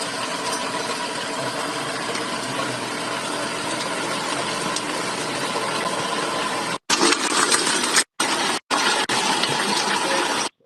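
A rotavator engine runs steadily and loud for most of the stretch, a broad continuous mechanical roar that then cuts out abruptly several times in short gaps near the end.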